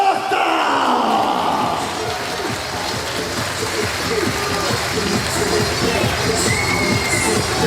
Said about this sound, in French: Mesdames, mesdemoiselles, messieurs, sous vos applaudissements, Franck F2ZH Abdelmalik Arochorta.